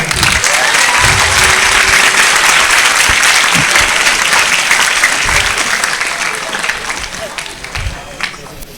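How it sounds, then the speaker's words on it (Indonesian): An audience at a sermon gathering at an Islamic boarding school claps loudly and continuously for several seconds, with some crowd voices mixed in, the applause gradually fading toward the end. "Tepuk tangan buat semuanya."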